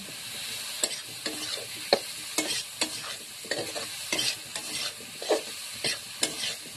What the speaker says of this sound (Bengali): তারপর টমেটোগুলো দিয়ে দেব। ভালো করে নেড়ে নেব।